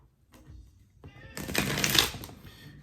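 A deck of tarot cards being shuffled, a soft riffle building into a louder, crisp burst of flicking cards before trailing off, close by.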